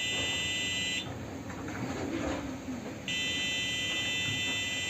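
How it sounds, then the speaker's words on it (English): An Arduino fire alarm buzzer triggered by a gas sensor sounds a steady, shrill electronic tone up close. It plays in two sustained bursts separated by a pause of about two seconds, over faint background noise. "As a fire alarm, it should detect the smoke."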